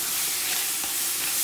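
Garlic sizzling in butter with peppers in a pan for chili, a dense, even close hiss that holds steady through a brief moment.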